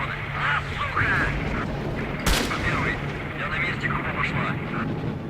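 Gunfire in the video game S.T.A.L.K.E.R.: Shadow of Chernobyl: scattered shots and one sharp loud crack amid constant game noise, with a player talking over it throughout.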